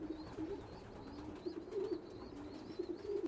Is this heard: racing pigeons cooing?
yes